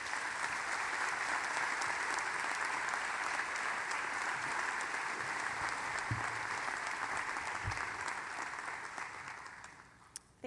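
Steady, sustained applause from a graduation audience at the Brandeis School of Law welcoming the speaker, a full crowd clapping evenly before it fades out at the end.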